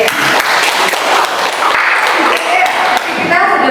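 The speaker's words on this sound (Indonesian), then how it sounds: "Tepuk tangan untuk Mbak Yula ya." Loud, dense applause from a classroom group honoring a student during an English lesson, sustained for several seconds with a voice emerging as the clapping ends.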